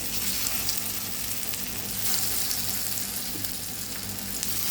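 Raw plantain pieces frying in hot oil, a steady dense sizzle filling the whole stretch at close range with no voices.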